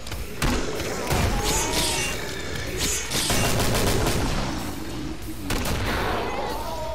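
Heavy, booming shots from a grenade launcher in Killing Floor go off in quick succession amid thick co-op combat noise, loud and close, with a voice faintly underneath.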